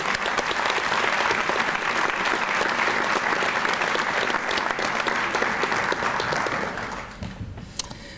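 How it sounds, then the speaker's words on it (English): Loud, full audience applause at a faculty and staff recognition ceremony, a thick sustained wall of clapping that tapers off in the final second with a few stray claps. "Let's give them a round of applause."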